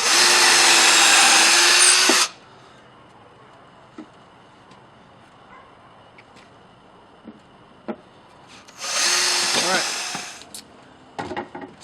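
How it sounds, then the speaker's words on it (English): A power drill bores pilot holes into a single wooden board for a bench, two loud whirring bursts at the start and again later, with quiet clunks and handling noises between them. "So we'll drill our pilot holes here."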